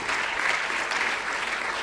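An audience at a UN Water preparatory meeting in Dakar applauds for Sultan, a short, even burst of clapping from a crowded room.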